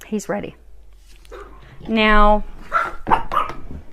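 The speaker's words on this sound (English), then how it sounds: "So apologies for the mouthy dog." A pet dog named Bexy barks and yips with a loud, harmonic bark in the middle, while someone talks over and around it indoors.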